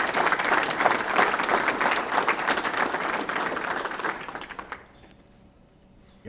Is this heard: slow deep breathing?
no